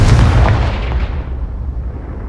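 A Confringo fire spell in the Hogwarts Legacy video game bursts in a single loud, deep boom that rolls away and fades over about two seconds.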